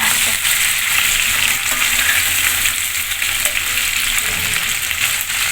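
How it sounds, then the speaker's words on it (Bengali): Katla fish head frying in oil for a Bengali muri ghonto, a steady dense sizzle that holds loud and even throughout, with no voices. "এখানে এই যে মাছটা প্রায় ভাজা হয়ে গেছে, আর একটু বাঁচতে হবে"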